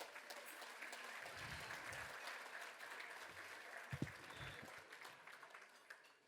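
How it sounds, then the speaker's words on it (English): Steady applause from a crowd at a fundraising gala fills the room, many hands clapping continuously at moderate distance, with a few scattered whoops and knocks underneath. "one more round of applause"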